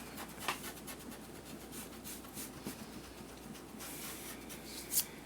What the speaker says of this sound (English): you're going to erase the line that's within the triangle